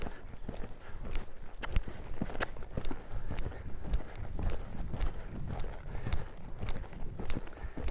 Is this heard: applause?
no